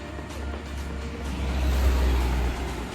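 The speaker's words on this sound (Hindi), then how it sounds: "गाड़ी आ रही है, बच के चलना।" A vehicle approaches along a quiet village road, its low engine rumble steadily swelling louder toward the middle before easing slightly, with no voices over it.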